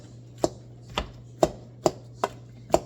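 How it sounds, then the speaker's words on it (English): Blueberries mashed for jam with a meat masher in a bowl, heard as six evenly spaced, sharp thumps about half a second apart, close and clear, with no talking. "I'm going to try to use my meat masher"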